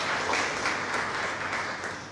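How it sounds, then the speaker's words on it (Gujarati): An audience in a library hall breaks into sustained applause, many hands clapping in a dense, steady roar that holds at an even level throughout without any voices. "જોરદાર તાળીઓથી વધાવીએ"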